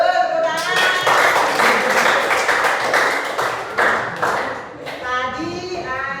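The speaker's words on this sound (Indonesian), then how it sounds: "Yuk, tepuk tangan." Children clapping hands in a classroom, a quick sequence of sharp rhythmic claps close by, with children's voices briefly before and after.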